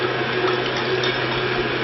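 Warm water pours in a steady, continuous stream into a bowl to dissolve condensed milk, close and even for a couple of seconds.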